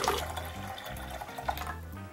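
Water pours from a jug into the reservoir of a Wirsh espresso maker, a steady close trickle and splash lasting a couple of seconds with slight bubbling.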